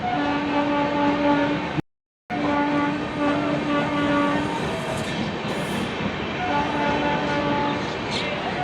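A large train runs past at a railway junction in India, with a steady rumbling roar, rhythmic clanking of the wagons and sustained horn-like tones. The sound is loud and close and continuous, broken only by a brief dropout.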